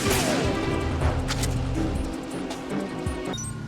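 Rapid video game gunfire crackles in dense, overlapping bursts, loud and nearly continuous, with heavier booming impacts in the mix.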